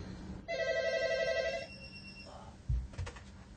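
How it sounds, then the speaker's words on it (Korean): A telephone rings with a steady electronic trill for just over a second, loud and close, then a few brief thumps follow as the handset is picked up. "어디선가 걸려온 전화를 급히 받는"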